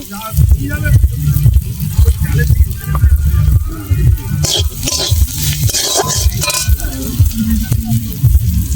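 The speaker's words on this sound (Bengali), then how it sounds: "এই দেখুন আমার পেঁয়াজটা ভাজা ভাজা হয়ে এসছে।" Onions frying in a pan during home Bengali cooking, a steady crackling sizzle with scraping and stirring, close and fairly loud throughout.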